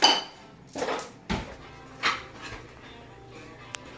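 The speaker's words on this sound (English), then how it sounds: "We're gonna stir up the pot" A pot of crawfish boil with shrimp stirred in a kitchen, several separate clanks and scrapes of the utensil against the metal pot, loud and close, spaced irregularly with quiet gaps between.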